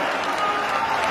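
Crowd applause at a public event, a dense, steady wash of clapping held at even loudness throughout with no pauses.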